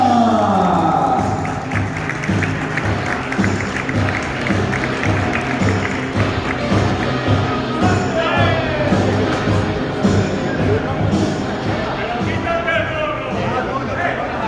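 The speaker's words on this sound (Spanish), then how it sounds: "En segunda posición, un fuerte aplauso para Antonio" At a karting awards ceremony, a crowd applauds the second-place finisher while an announcer speaks over loud music, the clapping blending into the busy mix throughout.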